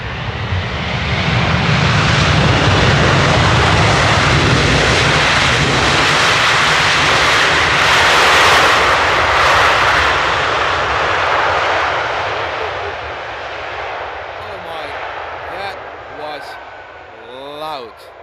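Airliner jet engines roar loudly and continuously during a crosswind landing at Amsterdam Airport, a broad near rumble that gradually fades and thins out, followed by scattered fainter sounds near the end with no clear talk.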